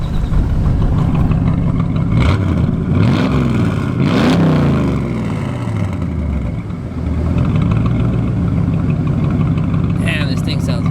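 A Ford Mustang Foxbody engine idling after an idle screw adjustment, a close, loud, throaty rumble that holds steady with a couple of brief swells, while people talk over it.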